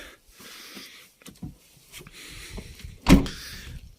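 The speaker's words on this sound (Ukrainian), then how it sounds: "Відкривається тільки багажник" A car trunk releasing via a Convoy MP-50 alarm remote, with soft mechanical clicks and rustles followed by a louder thump as the lid pops open, close by.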